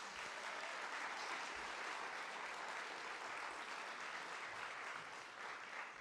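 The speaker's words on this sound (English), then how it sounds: "Can we please give a round of applause for all the long conversationalists?" Sustained, even audience applause fills the hall at an arts summit, a dense wash of many hands clapping from a large crowd, steady and loud throughout with no voice on top.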